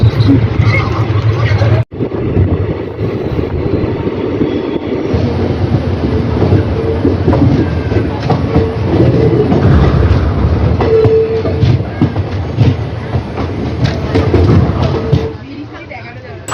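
A train on the Naihati to Bijanbari route rumbles steadily along the rails with a rhythmic clatter, loud and close, while people talk over the noise.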